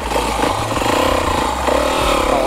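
An enduro motorcycle engine revving hard as the rider lifts into a short wheelie, loud and close, with a rising throaty roar and some mechanical clatter.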